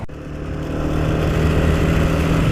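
Steady, rising engine drone with a low rhythmic thrum, like a helicopter monitoring from above, loud and continuous without speech.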